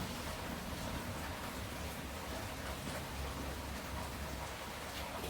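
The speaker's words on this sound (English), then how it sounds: "Rainy day in a western Jamaica." Rain pours steadily on a rainy day in western Jamaica, a dense, even hiss of falling water that holds constant, with no voices.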